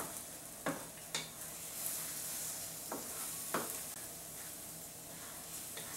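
Scrambled eggs with sausage sizzle softly in a pan while a utensil stirs them, giving a few faint scraping taps over a low, even hiss.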